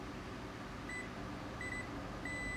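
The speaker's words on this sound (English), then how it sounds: "If I touch these two together, I'm going to get a beep." A multimeter in continuity mode beeps as its two test leads are touched together while checking a grounded compressor, giving three short steady electronic tones over a constant hum of background noise.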